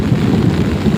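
Thunder rolls in a low, loud, steady rumble during a heavy rainstorm in a Gujarat village, blending with the rain's hiss, with no one speaking.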